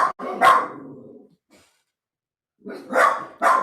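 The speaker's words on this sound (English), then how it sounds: "It's not customary to bark" A dog barks in a large room during a service, several loud nearby barks in two bursts with a long silent gap between them, and no talking.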